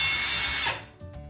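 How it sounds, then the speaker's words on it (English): A power drill runs steadily, boring holes in spoon handles for a DIY wind chime, then winds down with a couple of brief follow-up revs, close and moderately loud. "I need you to keep your hands away from the drill and pull the trigger."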